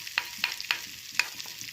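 A tempering of mustard seeds, cumin and dried red chilies sizzles and is stirred into a fresh red chili chutney, with sharp spoon scrapes and clinks over a soft frying hiss, close and fairly quiet.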